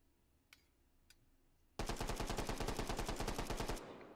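A Glock pistol firing tracer rounds in the VR game H3VR, a fast, loud string of about twenty rapid shots after a couple of faint clicks, then cutting off.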